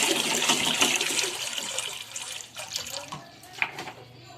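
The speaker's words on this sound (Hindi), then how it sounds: "इसके अंदर मैं 2 लीटर के करीब पानी शामिल कर रही हूँ।" Roughly two litres of water pour into a clean, open pressure cooker, a steady splashing stream that tapers off into a few light drips and trickles near the end.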